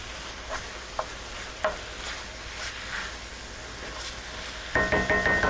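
Ground meat browning with green peppers and onions for chili gives off a steady, low sizzle, with a few soft stirring clicks and scrapes and a brief cluster of metallic taps near the end.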